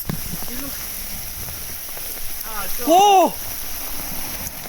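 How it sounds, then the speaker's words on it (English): Torrential rain with hail keeps up a constant loud hiss and patter close by, while a person cries out in pain and talks excitedly over it. "It's freaking hailing!"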